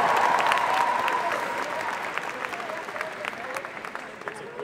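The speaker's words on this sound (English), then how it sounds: "Audience, give a big round of applause for Celtic Guardian." Crowd applause at an anime convention cosplay stage contest for a Celtic Guardian cosplayer, a dense burst that starts loud and gradually thins out, with voices mixed in.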